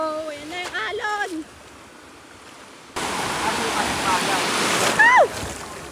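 Ocean surf at a shallow beach in Bicol, a steady broadband wash of breaking waves that surges louder in the second half, with excited voices and shouts over it near the start and end.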